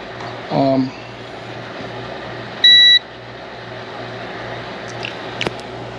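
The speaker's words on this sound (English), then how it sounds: "you get the tone, and the number goes to 1 when it's got full continuity" A multimeter on continuity test gives two short, clear electronic beeps a couple of seconds apart, heard close up during boat maintenance over a low background hum.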